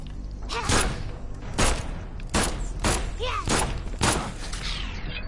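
Shotgun blasts from The Sinking City video game, five heavy booming shots spaced roughly a second apart, loud and close, with brief tonal creature-like cries between them.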